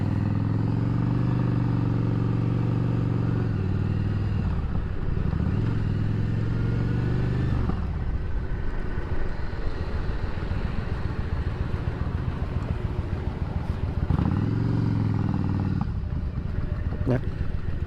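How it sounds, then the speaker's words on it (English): Steady engine drone from cars and motorcycles in rush-hour traffic, with low rumbling swells and revs rising and falling continuously at close range throughout. "But I get to see more of the motorcycle riders out there"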